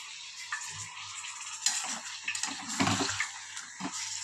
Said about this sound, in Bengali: হাফ কাপও না, হাফ কাপেরও 1/4 কাপ জল দিয়ে দিলাম আমি।